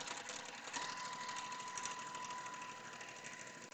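A sewing machine stitches quilt fabric for a Shoo Fly block, running continuously with a fast, even mechanical whir and hum before stopping abruptly as the fabric runs off the edge, close and alone.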